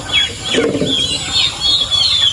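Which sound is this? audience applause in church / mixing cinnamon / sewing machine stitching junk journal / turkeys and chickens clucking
turkeys and chickens clucking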